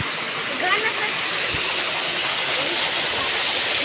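A clear stream at a hot spring rushes in a steady, full wash of flowing water that fills the whole stretch, nearby and fairly loud, with faint voices mixed into the background.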